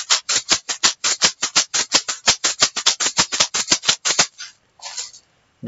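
A homemade shaker filled with rice is shaken in a quick, even rhythm of about twenty crisp rattling strokes, close and bright, then stops, followed by a couple of faint scattered rattles.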